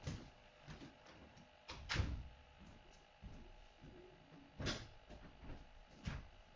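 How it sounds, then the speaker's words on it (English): Room door being shut, with several thuds and knocks at irregular intervals including a sharper bang, under steady room hum and rustling with no talking. "I should close my door"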